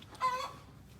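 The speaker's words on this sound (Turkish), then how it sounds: "Burada bir horozumuz." A single brief rooster call, fairly faint and a little distant, rising and then trailing off over a low outdoor hum in a muddy village yard.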